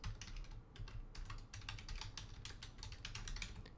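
Quick, steady tapping on a computer keyboard as an email address is typed, close and fairly quiet, with a run of crisp keystrokes and no speech.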